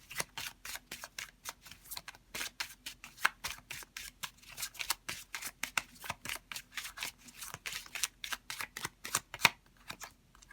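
Tarot cards being shuffled by hand make quick, crisp riffling and slapping bursts in a steady rhythm, close and fairly quiet, with no talk.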